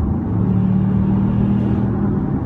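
A 2016 Ford Explorer Sport's 3.5L twin-turbo EcoBoost engine runs in regular drive mode, a steady low rumbling drone heard from inside the cabin, even and unbroken with no talking.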